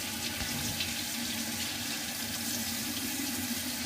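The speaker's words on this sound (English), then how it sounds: "Rinse it out real good" Steady broadband rush of tap water running over a layered vegetable as it is rinsed under a faucet, continuous and close with no talk.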